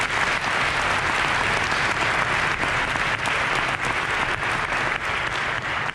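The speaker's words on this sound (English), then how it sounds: "If you'll give him a round of applause, please." Sustained, dense audience applause at an event, a loud even wash of many hands clapping from start to finish with no talk over it.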